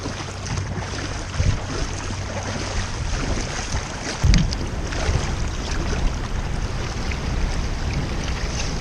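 Constant rushing wind and water noise surrounds a moving Bonafide EX123 kayak paddled in a straight line, with a couple of thumps as a paddle strikes or knocks the hull.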